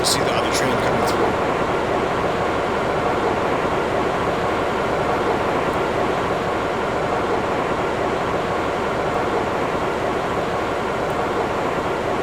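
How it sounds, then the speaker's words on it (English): A subway train runs through a station in a Roblox game, making a steady, even rumble that holds unchanged throughout while someone talks over it. "See the other train coming through."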